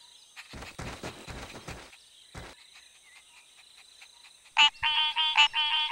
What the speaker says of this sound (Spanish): ¡Hay muchas ranas!